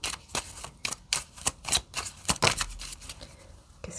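An oracle card is laid down on a table, heard as a run of crisp, close taps and card flicks that come in quick irregular bursts, with no voice over them.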